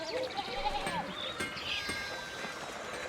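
Sheep bleat repeatedly in the medieval mystery game Pentiment, wavering calls layered over a busy farm ambience with some background voice activity.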